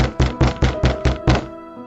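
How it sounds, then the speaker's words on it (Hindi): Loud knocking on a wooden door: six heavy, evenly spaced thuds in quick succession, close and alone, with no voices. "अपने कमरे के दरवाजे पर जोर जोर से खटखटाने की आवाजें सुनाई देने लगी।"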